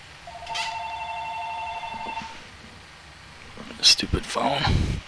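A telephone rings in a room during a home flight-simulator session, a short electronic ringing tone with steady pitched lines, followed by clattering handling sounds and a person talking.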